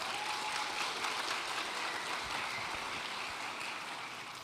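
A church congregation claps together for a young girl brought forward, a dense, steady wash of applause that carries through at an even level with no talk over it.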